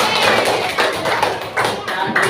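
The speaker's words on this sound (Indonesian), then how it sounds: "tepuk tangan untuk kelompok 7" Students in a classroom clap for a group, a brief burst of dense, close, fairly loud hand clapping that continues steadily throughout.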